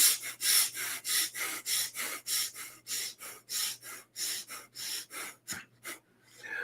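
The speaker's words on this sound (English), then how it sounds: "you're going to just use your nose, and for 60 seconds, you're just going to go in and out like 1 or 2 breaths per second" Rapid, forceful in-and-out breathing through the nose in a breath of fire exercise, steady rhythmic puffs at roughly two to three per second, close and loud with no talking, ending in a brief softer pause.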